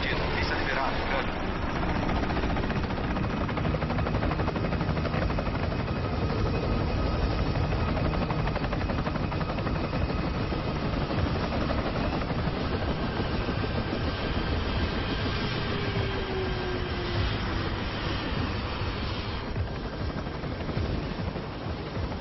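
A Raptor 47 aircraft comes in on approach to land, its broad engine roar steady and loud throughout, with faint whining tones drifting over it and radio-style voices talking beneath.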